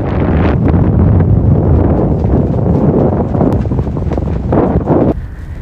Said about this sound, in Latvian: kāda brīzīta vējiņš iepūš